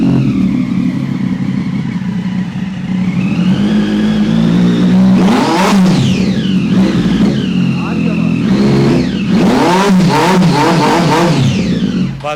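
A stylish motorcycle engine revs hard in repeated loud bursts, the pitch climbing and dropping with each twist of the throttle, close up, with a steady idle rumble in between.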